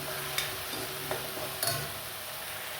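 Tomato puree poured over sautéed onions in a hot pan for sev usal, a soft continuous sizzle with a few light stirring clinks and scrapes, close and moderately quiet.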